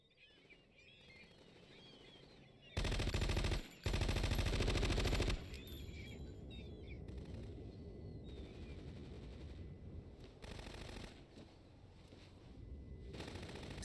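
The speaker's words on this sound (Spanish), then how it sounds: "Sí, más tiros." Gunfire in Metal Gear Solid 2 on PS2: dense bursts of automatic fire at two points and a later shorter burst, standing loud over a steady game ambience.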